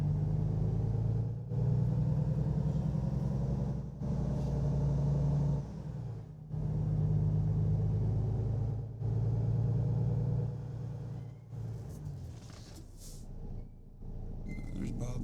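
A heavy truck engine rumbles steadily while driving in American Truck Simulator, with the throttle easing off between gear changes and a voice talking over it.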